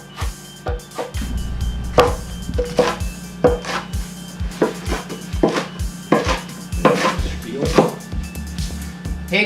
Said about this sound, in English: when you're making this beautiful, chopping all this lettuce